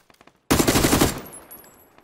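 A burst of rapid automatic gunfire in the shooter game PUBG, a loud dense volley lasting about half a second after a few faint distant shots, then fading into ringing echo.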